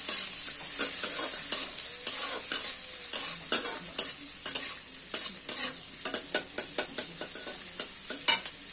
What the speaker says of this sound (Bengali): সেই পেঁয়াজটা দিয়ে একটু লাল করে ভাজতে হবে।